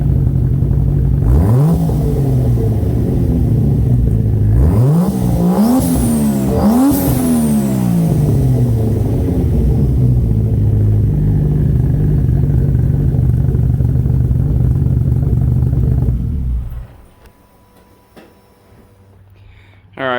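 A 1995 Toyota Supra MK4 revving out the tailpipe, several sharp rising throttle blips over a steady loud idle before the engine cuts off and falls quiet.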